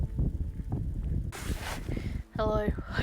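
Strong wind gusts buffet a phone microphone on a cold, wet mountainside, a broad roaring rush that rises and falls, with a brief lull before the blustering returns loud and close.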